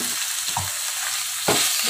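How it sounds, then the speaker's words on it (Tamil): Tomatoes and onions sauté in a pan for kurma, giving a steady close sizzle with brief stirring scrapes and a louder burst near the end, no voices. "இப்போ நல்லா வதக்கியாச்சு நம்ம வெங்காயத்தை. இப்போ நம்ம தக்காளியை சேர்த்துக்கலாம்."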